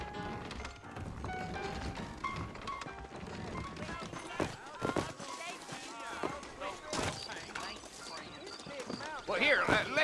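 Horse hooves in the video game Red Dead Redemption clip-clop faintly under ongoing talk and music, with a few sharper taps and a brief louder burst toward the end.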